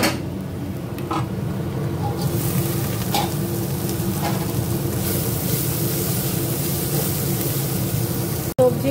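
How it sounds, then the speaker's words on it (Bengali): Mixed vegetables stir-fry in a hot pan, giving a loud, continuous sizzle broken by a few soft scrapes from stirring. "সবজিগুলো মোটামুটি ভাজা কমপ্লিট"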